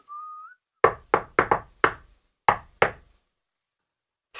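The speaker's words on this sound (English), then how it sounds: "He knocked on the door." Seven hard knuckle knocks land on a cottage door in an irregular sequence, loud and close, after a short whistled tune, with one more knock starting at the very end.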